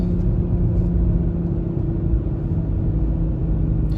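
A 2021 Toyota Supra GR on the move gives a steady, loud low engine and exhaust drone with road rumble, holding constant throughout without distinct separate pops.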